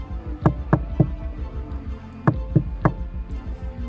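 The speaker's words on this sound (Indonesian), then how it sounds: "segera mengetuk pintu rumah tersebut" Knocking on the front door of a house: two close sets of three firm raps, each set evenly spaced with a short pause between them.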